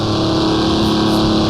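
A Mercedes Transporter van in the Assetto Corsa racing game on the Nordschleife screams at high, steady revs as its engine over-revs, a loud continuous drone filling the whole moment with no voices.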